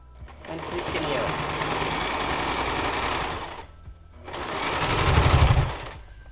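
A sewing machine stitches quilt fabric in two steady runs, the first longer, with a short pause between as the work is turned with the needle down; close and fairly loud.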